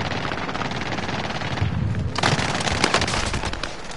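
Gunfire in Call of Duty Warzone crackles in dense, overlapping bursts, with a heavier, booming stretch around the middle and steady rapid shots continuing to the end.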